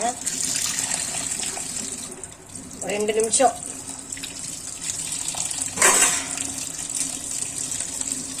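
Tap water runs steadily over boiled pasta to rinse it in a kitchen, a continuous splashing hiss with brief louder gushes while someone talks.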